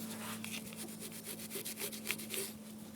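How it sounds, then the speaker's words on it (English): Emery cloth scraping the metal fuel bowl of a 7.3L diesel engine, a steady, fairly close rasping rub made of quick repeated strokes with no voices. "So I'm going to take some embry cloth and scrape away right here."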